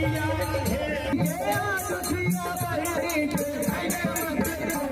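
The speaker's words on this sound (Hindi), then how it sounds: "देखिए जनकपुर में क्या नजारा है दोस्तों, लाखों की भीड़ सीता विवाह का साक्षी बनने के लिए" A huge festival crowd gathers in Janakpur for the Sita wedding celebration, a dense, continuous hubbub of many voices with musical tones threaded through, steady and loud throughout.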